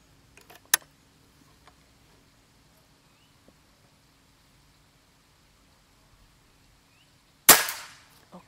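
A single sharp air rifle shot cracks loudly near the end, preceded by a brief click and long near-silence.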